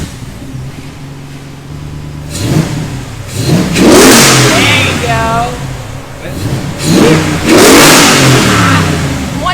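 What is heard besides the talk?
Jeep JK with 6.4 Hemi engine revving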